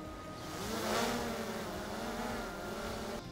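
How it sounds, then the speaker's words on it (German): A DJI Mini 4 Pro drone's rotors spin up during a hand launch, a loud, close, steady high-pitched buzzing whine that swells slightly early on and then holds, with no talking. "die Rotoren werden sich gleich anfangen zu drehen"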